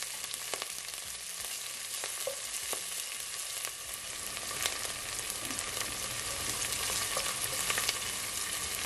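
Jamaican brown stew chicken fries in a pot with herbs as a spoon stirs it, a steady hissing sizzle marked by scattered scrapes and light knocks, close up and free of talk.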